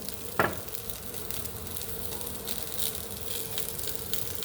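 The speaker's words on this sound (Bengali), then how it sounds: "ভালো করে ভেজে নিচ্ছি।" Pieces of taro fry in a pan in a village kitchen with a steady, fairly quiet sizzle and crackle throughout, opened by one brief clatter near the start, with no talking.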